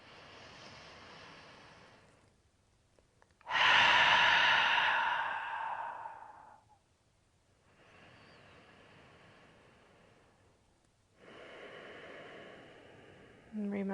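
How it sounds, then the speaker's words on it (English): During a yoga session, a deep cleansing breath comes close to the microphone: a quiet inhale, then one long, loud exhale of rushing air, followed by softer breaths in and out. "Let's take one more final cleansing breath together."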